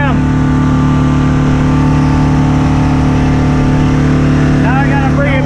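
A big boat's engine runs steadily at about 1,200 RPM during a river trial, a loud continuous low drone filling the whole stretch, with a voice briefly audible near the end.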